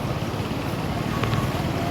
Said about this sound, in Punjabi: ਹਨੇਰੀ ਵੀ ਬਹੁਤ ਚੱਲ ਪਈ ਆ ਬਹੁਤ ਜ਼ਿਆਦਾ ਹਨੇਰ ਚੱਲ ਪਿਆ